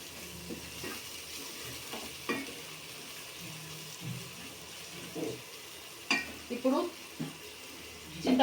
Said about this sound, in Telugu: చూడండి బాగా వేగింది చక్కగా చూడండి ఆయిల్ సపరేట్ అవుతున్నది